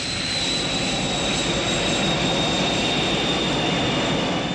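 Aircraft jet engines roar steadily through a takeoff roll, a loud, unbroken whine with a high tonal note held across the whole stretch.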